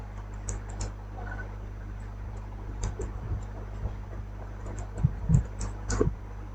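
Close-up computer keyboard typing in scattered short bursts of key clicks over a steady low electrical hum, with pauses between bursts and no talking.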